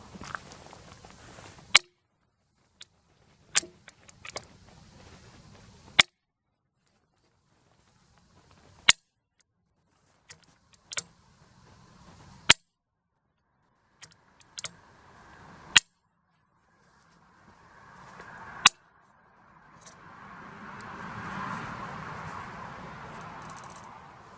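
A Ritter & Stark SLX rifle bolt is worked by hand after firing, producing a series of sharp metallic clicks and clacks separated by quiet pauses, followed by a soft rustle at the end.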